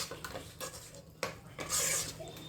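Masala for chicken curry is stirred in a pot, a quiet scraping of a spoon against metal in short irregular strokes with faint clinks, close by and without talk.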